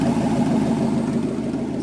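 A Jeep CJ7 with a Chevy 350 V8 and dual Flowmaster Super 44 exhausts idles close by, giving off a steady low rumbling burble with no talking.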